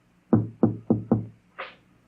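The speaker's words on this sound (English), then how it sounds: "And then there was a knock on the door." Four firm, evenly spaced knocks on a wooden door as a radio drama sound effect, close and clear in a quiet room, followed by a short muffled sound.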